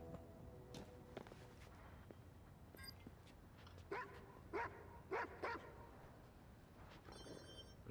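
Dog barking in the video game Watch Dogs 2: a few sharp barks in quick succession mid-clip, moderately close, over a steady bed of game ambience and music.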